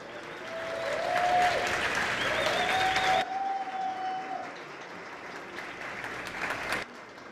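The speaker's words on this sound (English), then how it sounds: "Oh, big round of applause." Audience applause at an awards presentation during the BIG Festival 2022, steady and full for a few seconds with a thin sustained tone running over it, then tapering off.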